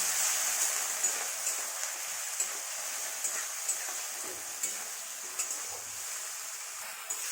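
A poppy seed and chili paste fries with chopped tomato, salt and turmeric for an egg curry, giving a soft, even, constant sizzle with faint ticks of stirring and no voices.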